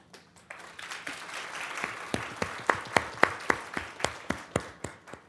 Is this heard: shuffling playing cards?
no